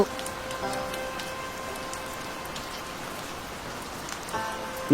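Rain falling on city streets on a rainy day, a steady, even wash of drops hitting the ground that continues without a break, with a faint background hum.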